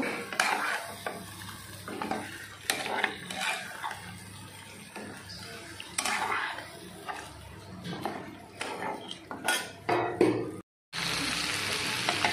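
Chicken do piaza sautéing in oil in a pan, with steady close sizzling and repeated scraping stirs of a spoon against the pan bottom, loud and unbroken apart from a brief pause near the end.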